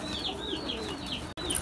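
Pigeons at a pigeon sale give a continuous soft, warbling coo in repeated rising phrases against a steady background, with a brief dropout near the end.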